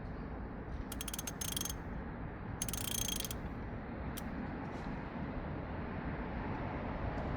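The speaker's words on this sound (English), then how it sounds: "22 millimeter deep socket." Ratchet turning a 22 mm deep socket on a second-generation Honda CR-V while replacing the automatic transmission oil pressure switch; two short bursts of rapid clicking stand out over a steady background hum, then a single brief click.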